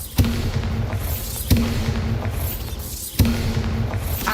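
Bombarda blasting spell explosions in Hogwarts Legacy: three heavy booming blasts at regular intervals, each with a sharp attack and a rumbling tail, loud and close over continuous background noise.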